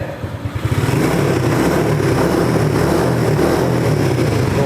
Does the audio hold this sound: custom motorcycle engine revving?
yes